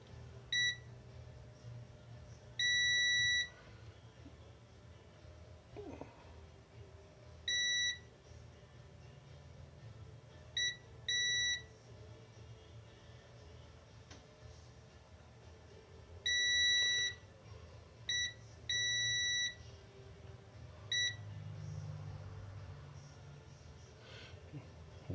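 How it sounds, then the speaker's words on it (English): An electronic device under microsoldering repair on a dead hard drive gives short, shrill beeps in irregular bursts, some single and some doubled, over a faint background hum. "Weird that sometimes it beeps and sometimes it stops."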